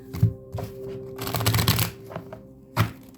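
Tarot cards being shuffled in quick riffling bursts, with soft slaps and rustles at a moderate, close distance and a low steady hum underneath.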